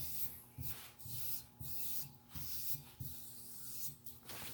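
Hand scraping on metal, a steady series of short rhythmic scraping strokes, about eight in a row, close and moderately quiet with a faint background hum.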